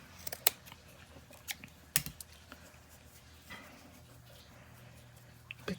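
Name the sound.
scissors cutting fabric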